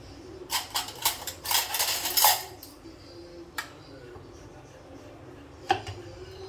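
Fish being mixed by hand with turmeric and Agri masala in a metal bowl, giving a burst of clinking, scraping strokes followed by sparse knocks against the bowl.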